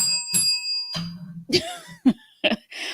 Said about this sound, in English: Let me give myself a bell.